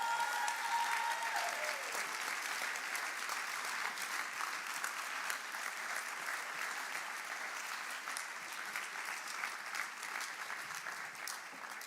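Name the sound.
applause for people coming on stage in church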